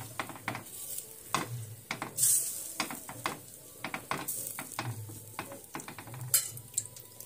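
A rice flour bhakri cooks on a hot iron tava, giving a soft, steady sizzle broken by repeated sharp clinks and taps of utensils close by, with no voices.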